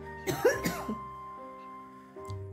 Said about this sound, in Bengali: একটু কাশি হয়েছে, সর্দি হয়েছে